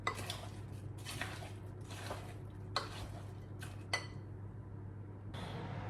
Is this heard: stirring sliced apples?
yes